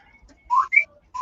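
A few short tonal whistles from a bird, rising and falling chirpy notes in quick succession, close and clear against near silence.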